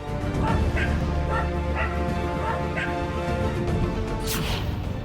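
Stray dogs on a street bark repeatedly in a steady series of yips and woofs, set against a dense, constant background din.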